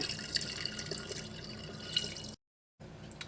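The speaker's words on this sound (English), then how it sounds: "now I'm going to fill it with my white vinegar" White vinegar is poured over pork in a container to submerge it, making a steady close trickle and splashing that cuts out briefly, then resumes.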